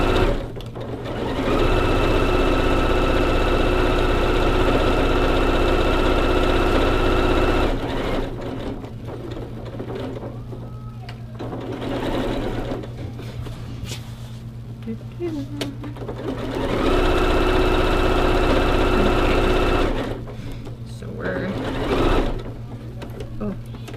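A sewing machine stitches the corner of a mini quilt being turned into a pillow. It runs in steady whirring bursts with pauses between them, and a person talks over it.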